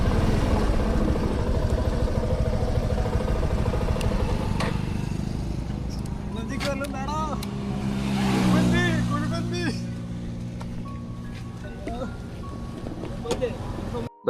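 Motorcycles on a long group ride from Kerala toward Ladakh, out on the road near Bangalore, hum and rumble steadily with a rising engine swell midway, while riders talk over the noise.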